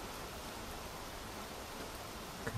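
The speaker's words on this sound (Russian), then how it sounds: "Видите, какой дождь." Steady rain falls outdoors on a wet first day of summer, a faint, even hiss of drops with no other sounds on top.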